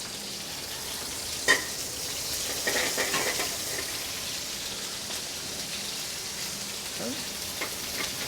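Mushrooms frying in a pan give a soft, steady sizzle with a sharp clatter near the start and light stirring scrapes, moderately close, with no clear talking.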